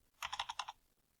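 Close, quiet rapid tapping on a computer keyboard as a number is entered, about six quick keystrokes in well under a second, alone with no talking.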